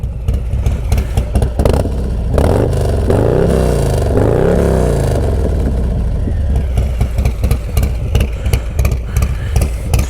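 A 2021 Street Bob FXBBS motorcycle with a Cobra El Diablo 2-into-1 exhaust idles with a deep, throaty, choppy cam-chop note, briefly revving up and settling back, loud and close.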